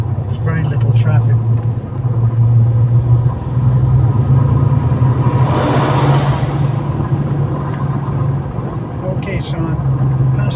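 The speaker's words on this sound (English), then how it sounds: "Okay, so I'm past that big truck." A car overtakes a big truck on an open road, making a steady, loud engine and road rumble with a brief swell of passing noise midway.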